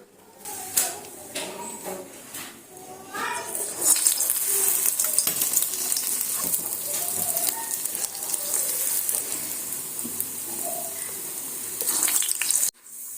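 Medu vadai dough made in a mixie frying in a pan of hot oil, giving a steady, close crackling sizzle that swells after a few seconds and runs without a break, with faint kitchen clatter underneath.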